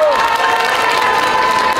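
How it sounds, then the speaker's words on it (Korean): A rally crowd greets students stepping up to speak with loud sustained cheering and clapping, a dense steady roar of many people close by. "여러분 큰 박수로 맞아주십시오."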